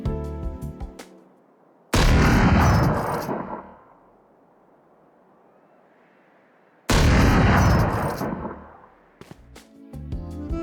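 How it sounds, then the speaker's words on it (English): Two loud, booming sniper rifle blasts from Chamber's ultimate in the game Valorant, each followed by a long, stretched, otherworldly tail that fades out, separated by a few seconds of quiet. "Chamber's ultimate ability is a menacing sniper rifle that sounds almost alien"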